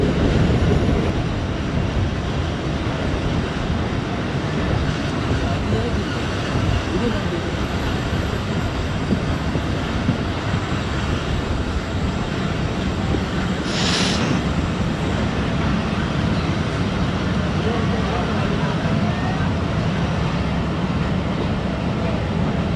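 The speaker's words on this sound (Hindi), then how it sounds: "साहिवाल रेलवे स्टेशन पे अप्रोच कर रही है टू डाउन खैबर मेल" The 2 Down Khyber Mail pulls into Sahiwal railway station, a steady loud rumble of a train running several hours late continuing throughout, with a brief hiss midway and a crowded platform's background.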